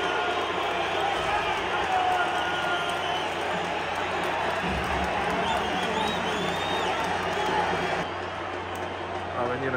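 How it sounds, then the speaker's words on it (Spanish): A stadium crowd at a Toluca versus Pumas football match booes a player, a loud, sustained roar of disapproval that runs throughout, with a commentator's voice partly heard over the noise. "El abucheo es para el Chino Huerta"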